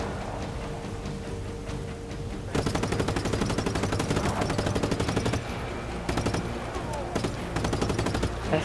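Gunfire in Just Cause 3 starts as a low rumble, then breaks into rapid, continuous machine-gun bursts with clipped rhythmic shots in several loud volleys and short pauses between them.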